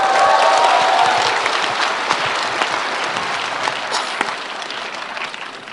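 A crowd at a talk concert claps loudly for several seconds, the dense applause slowly thinning and fading toward the end, with a faint murmur of voices.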